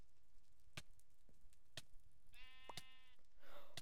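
A Minecraft sheep lets out a single buzzy, close bleat partway through, set among sharp clicks and taps from the blocky game world, with no one speaking.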